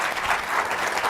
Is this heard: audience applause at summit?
yes